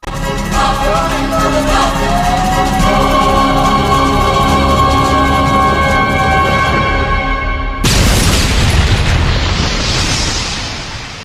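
A sustained layered film soundtrack gives way to a sudden loud bomb blast in front of a church and a long roaring rumble that slowly fades.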